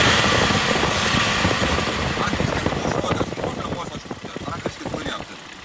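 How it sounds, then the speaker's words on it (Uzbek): A 2022 Kia Bongo truck engine idles steadily at close range, a rough broadband rumble running throughout with someone talking over it. "Motor ishlashi, gaz bino olgan ekan."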